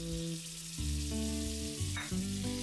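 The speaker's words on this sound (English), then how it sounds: "in a hot pan add 2 tablespoons butter" Butter sizzles in a hot pan, a steady frying hiss running under sustained tonal background music, close and moderately loud.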